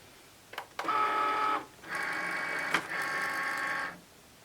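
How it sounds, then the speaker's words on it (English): A Cricut machine cuts printed stickers, giving two stretches of mechanical whirring, the first about a second long and the second about two seconds, with a soft click between them, moderately quiet and close. "we can head to the machine and cut our stickers"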